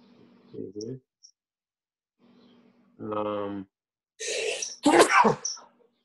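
A few short throaty bursts, one resembling a sneeze, come close together amid clicks and brief vocal sounds, moderately loud and nearby.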